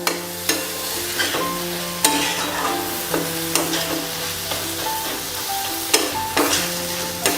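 Finely chopped cauliflower bharta sizzles steadily in a pan with tomatoes and salt, with regular scrapes and clinks of a stirring spoon against the pan over the continuous frying hiss.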